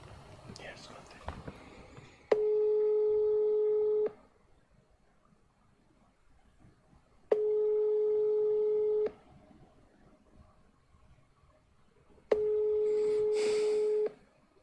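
A telephone line sounds three long, steady electronic tones, each lasting under two seconds and separated by longer gaps of quiet room noise.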